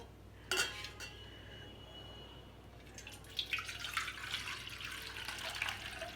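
Jaggery water is strained into a second kitchen vessel, with a sharp metallic clink followed by a steady trickle and pour of liquid that builds toward the end, fairly close and quiet.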